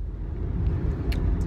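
Low, steady rumble of a car driving, heard from inside the cabin, with muffled road noise and a few faint clicks and small sounds on top, no talking.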